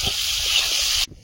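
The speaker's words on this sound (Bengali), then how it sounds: "এবার জল দিয়ে দেবো" Water poured into a pan of sautéed vegetables, a loud steady hissing gush that stops abruptly just after one second, followed by faint quiet sizzling.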